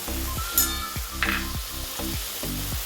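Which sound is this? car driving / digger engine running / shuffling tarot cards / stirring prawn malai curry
stirring prawn malai curry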